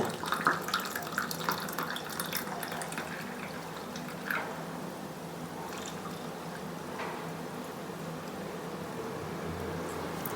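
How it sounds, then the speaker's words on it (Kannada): Cooled butterfly pea tea pours into a glass of lemonade with soaked sabja seeds, making a steady, soft liquid trickle and splash that runs continuously at close range. "ಈಗ ಕೊನೆಯದಾಗಿ ಶಂಖಪುಷ್ಪನ ಹಾಕ್ತಾಯಿದ್ದೀನಿ ಆರಿದೆ ತಣ್ಣಗಿದೆ"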